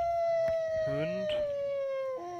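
Dog howl in a Swedish playthrough of the game Lucky Islands, a long steady wavering tone held for about two seconds, with brief voice-like bursts over it.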